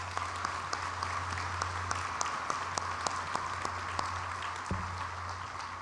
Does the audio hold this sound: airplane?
no